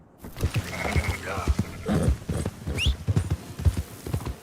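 Horse hooves clip-clop steadily in Red Dead Redemption 2 gameplay, a rapid close rhythm of hoofbeats with a brief whinny, over game ambience while someone talks intermittently.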